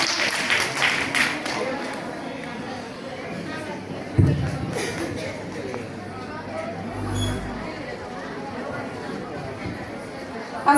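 An audience gives a burst of clapping for a woman being honoured at a gathering, with crowd chatter throughout and the applause strongest at the start.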